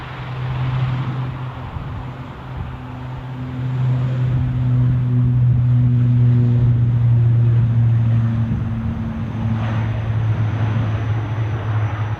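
A car drives past near an airport, a steady low engine drone that swells and holds loud through the middle before easing slightly, with faint aircraft-like rumble blended in and no talk.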